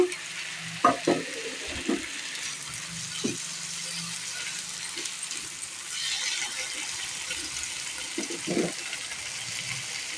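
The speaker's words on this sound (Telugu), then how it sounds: "ఆయిల్లో ఫ్రై చేసుకోవాలండి కాస్త ఈ ఆలు ముక్కలు" Potato pieces and tomatoes fry in oil for an aloo tomato masala curry, giving a steady close sizzle broken by a few sharp stirring clatters.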